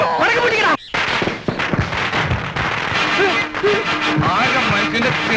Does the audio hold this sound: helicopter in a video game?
no